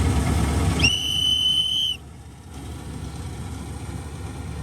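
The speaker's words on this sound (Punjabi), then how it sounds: "ਆਪਾਂ ਸੀਟੀ ਲਿਆਦੀ ਅੱਜ ਸੀਟੀ ਤੇ ਚੱਲੂਗਾ" A sharp, steady two-tone whistle blows for about a second over the loud engine rumble of a wheat harvesting machine, then cuts off, leaving the engine idling.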